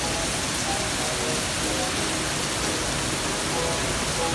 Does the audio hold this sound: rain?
yes